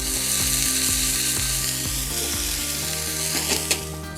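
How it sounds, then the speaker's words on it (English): Onions slowly frying with carom seeds in a pan on a camp stove during a camp breakfast, a steady close sizzle with faint ticking and scraping, no talking. "it's just starting to caramelize some of the onion"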